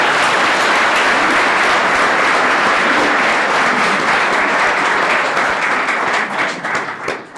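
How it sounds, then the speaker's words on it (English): Sustained applause and clapping from a crowd at a live event at ALX, dense and loud throughout, thinning slightly near the end. "I'd like the gents to please give them a round of applause"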